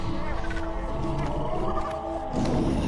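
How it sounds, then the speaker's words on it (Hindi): A lion roars in a jungle, a deep rumbling growl that swells and drops away, heard mixed with a speaking voice in a spooky horror-story setting. "शेर की दहाड़ अलग सुनाई दे रही है।"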